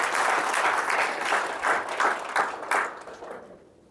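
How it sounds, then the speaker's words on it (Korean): Audience applause at a leadership lecture, a few seconds of dense clapping from a hall crowd that tapers off and fades out toward the end. "박수 한번 주세요."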